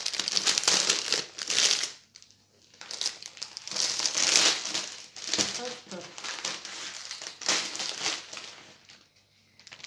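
Transparent plastic packaging around a diamond painting kit crinkles and crackles in bursts as it is unwrapped close up, with brief pauses between handling.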